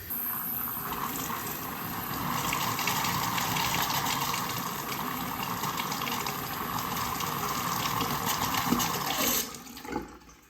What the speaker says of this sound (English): we can hear the water flowing out to the septic